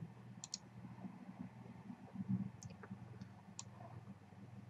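A computer mouse gives a quiet double click, then a few more faint, scattered clicks over a low steady hum in a quiet room.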